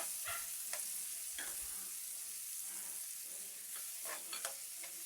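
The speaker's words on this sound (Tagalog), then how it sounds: "At haluin naman natin ang sibuyas." Sautéed onion, garlic and tomato are stirred in a hot pan for ginisang ampalaya, with soft, intermittent scraping strokes over a steady, faint frying sizzle.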